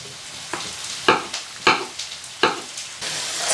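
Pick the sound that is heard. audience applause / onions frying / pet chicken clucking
onions frying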